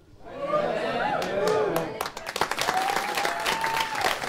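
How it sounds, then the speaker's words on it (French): A crowd breaks into lively applause and cheering, many hands clapping briskly with scattered whoops, fairly loud and close, while voices call out and chatter through the noise. "On voit que les acclamations là, c'est plutôt positif, c'est genre waouh, bien joué, c'est cool ce que t'as fait."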